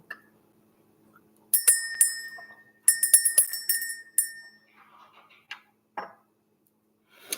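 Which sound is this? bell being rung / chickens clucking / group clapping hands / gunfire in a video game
bell being rung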